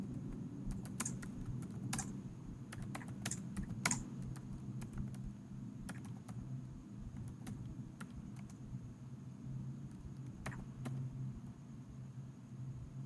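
Quiet, steady typing on a computer keyboard, rapid irregular key clicks with occasional sharper taps, close by over a low background hum.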